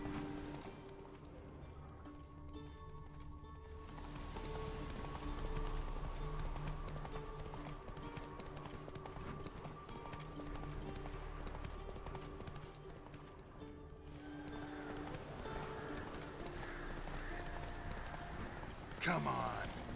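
Roach the horse galloping in the video game Witcher 3, with rhythmic hoofbeats over a continuous game ambience and music bed throughout, and a brief louder thud near the end.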